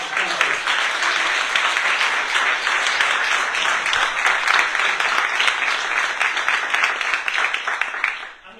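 A crowd at a senator's outdoor funding announcement claps in a sustained, dense round of applause, steady and fairly loud, fading out quickly at the end.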